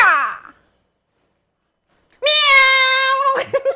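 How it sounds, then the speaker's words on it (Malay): A cat meows twice, a short close cry, then a pause, then a longer, drawn-out meow ending in a few small trailing sounds, loud and clear against silence. "Meow."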